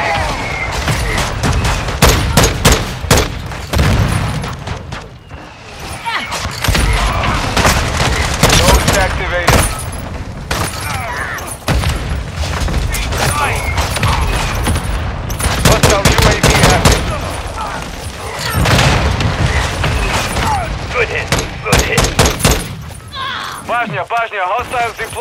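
Dense gunfire fills a Call of Duty: Modern Warfare II match, with rapid automatic bursts and repeated shots running almost without pause, up close and loud, and voices calling out over the firefight.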